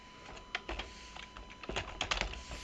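Typing on a computer keyboard while writing a database query, with scattered, irregular key clicks in short bursts, close and moderately quiet.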